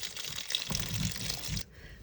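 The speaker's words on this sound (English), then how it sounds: "There's water coming out." Loose water drains out of a bucket packed with moist wood chips and cardboard bedding for a worm bin, a soft close trickle and gush that cuts off abruptly near the end.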